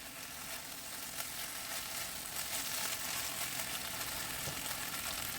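Carrots sauté in a pan for an eggplant dish, a soft continuous sizzle and crackle that stays fairly quiet and even throughout.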